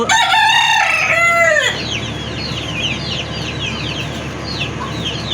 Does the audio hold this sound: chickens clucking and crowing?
yes